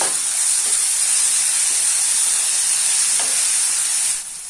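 Onion and tomato frying with fenugreek seeds in a pan, a steady loud sizzle and hiss held evenly throughout, with faint stirring scrapes and no voices.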